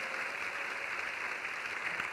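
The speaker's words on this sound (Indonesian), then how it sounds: "Yang setuju beri tepuk tangan yang meriah bagi Tuhan." A church congregation applauds, a brief dense wash of clapping heard at a moderate distance, steady from start to finish with no voices.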